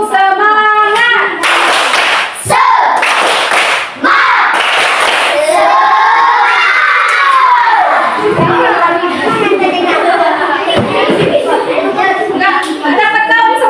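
Schoolchildren in a fifth-grade class clap a rhythmic spirit pattern together, loud bursts of synchronized claps mixed with excited shouting and chanting voices filling the room.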